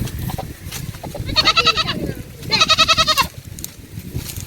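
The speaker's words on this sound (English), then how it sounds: "So the goat are cry for help." A goat bleats loudly twice in a countryside setting in Jamaica, each cry a long wavering call, with someone talking and shouting around the calls.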